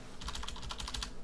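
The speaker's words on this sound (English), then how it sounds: "go up into my URL and type localhost" Computer keyboard typing a web address, a quick close run of about ten crisp key taps over a steady low background hum.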